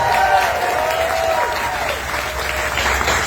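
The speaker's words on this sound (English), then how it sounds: "Let's give our panelists another round of applause for joining us today." Audience at a Farm Aid panel discussion on agriculture applauds the panelists, a steady, dense, loud wash of clapping with crowd murmur that continues throughout.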